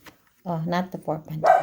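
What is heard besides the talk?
dog barking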